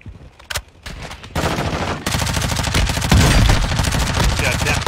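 Rapid automatic gunfire in a shooter video game, starting with a few sparse shots, then dense loud bursts that build into a continuous rattle.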